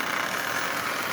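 A little Marx 595 toy train locomotive hauls a heavy load of 20 full-size Marx cars, giving off a steady, close whirring motor hum with a rough, even texture and no pauses.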